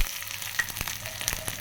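Cumin, dried red chilies, curry leaves and shallots sizzle and crackle steadily in hot oil as they temper, with occasional sharp pops and stirring scrapes, close by.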